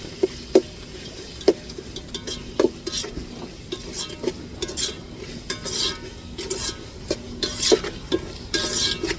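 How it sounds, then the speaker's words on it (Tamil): Stone-ground ginger garlic paste being sautéed with softened tomatoes in a pan, a spoon stirring and scraping with sharp knocks against the metal over a soft sizzle, steady and close. "இப்போ இஞ்சி பூண்டு அம்மியில் அரைச்சது சேர்த்து நல்லா வதக்கிடுவோம்."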